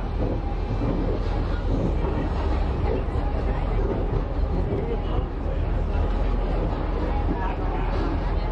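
A Great Smoky Mountains Railroad passenger train rolls slowly out past the Bryson City depot with a continuous loud low rumble and wheel noise, close and steady, along with wind buffeting and faint background chatter.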